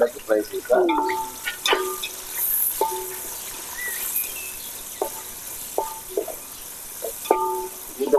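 Onions and green chillies fry in hot oil for a chicken leg piece biryani, giving a steady soft sizzle with repeated bright scraping and stirring strokes of a utensil against the pan.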